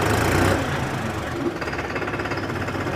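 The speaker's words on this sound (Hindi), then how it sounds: "आपको दोनों में से कौन से ट्रैक्टर की आवाज़ ज़्यादा अच्छी लग रही है" Tractor engine running in gear, a loud rapid knocking chug that stays steady after a brief louder burst at the start.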